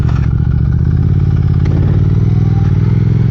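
Motorcycle with Ohlins rear shocks running steadily while riding, a loud continuous engine drone with low rumble and clatter, close to the mic and without talk.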